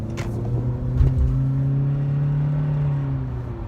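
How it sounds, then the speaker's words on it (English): A 2018 Honda Accord Sport with the 1.5 engine accelerates in sport mode from a stop sign, a steady close engine hum and rumble climbing gradually in pitch for several seconds. "Let's see how this engine hums."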